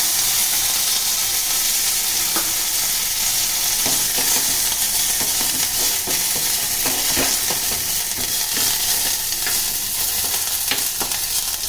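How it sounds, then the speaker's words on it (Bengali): Cumin seeds and curry leaves crackle in hot oil for a peanut chutney tempering, a loud continuous sizzle with scattered pops and stirring scrapes throughout. "সাদা জিরে ফোড়ন দেবেন, দিয়ে কারি পাতা"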